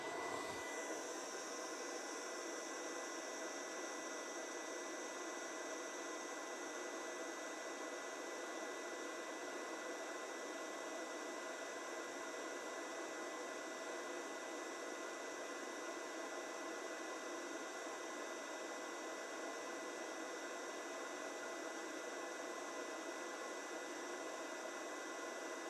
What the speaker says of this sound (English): The cooling fan on this comes on as soon as you plug it in, so that runs all the time